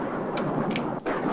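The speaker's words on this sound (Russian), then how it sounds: "Слушай, гроза! Первая в этом году!" Thunder from the first thunderstorm of the year rolls as a dense, loud, continuous rumble with a few faint high ticks on top.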